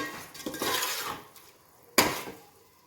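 A spoon scrapes and stirs fried eggs into biryani masala in a pan, a close rustling scrape followed by one sharp clink of metal against the pan, with no one talking.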